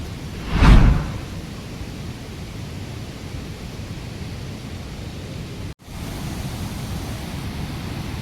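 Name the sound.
river water gurgling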